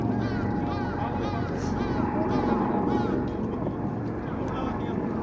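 A 119 fire department rescue helicopter circles near a rocky peak on Dobongsan mountain, its steady rotor drone loud and close throughout, with gusty wind noise and people talking.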